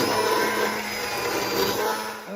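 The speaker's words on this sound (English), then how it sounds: "we're going to pull out the immersion blender and give this soup some body" An immersion blender whirs through a pot of creamy Tuscan vegetable soup, a steady motor whine with a slight dip midway, running alone without talk.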